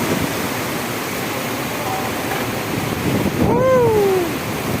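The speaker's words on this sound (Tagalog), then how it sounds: "Grabe lakas ng ulan dito oh." Heavy rain and strong wind in Saudi Arabia make a steady, loud rushing roar, with a brief whistling tone rising and falling partway through.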